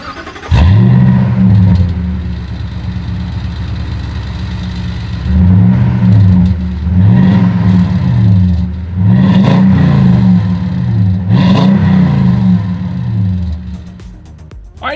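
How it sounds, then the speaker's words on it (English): A 2020 Toyota Tundra pickup with a single exhaust and chrome tip revs loudly up close: one rev, a stretch at idle, then a run of about five quick throttle blips rising and falling. "As always, here is that exhaust clip."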